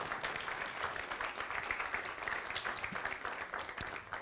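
A church congregation applauds, a soft, continuous patter of many hands clapping that sounds fairly distant and even, with an occasional sharper clap near the end.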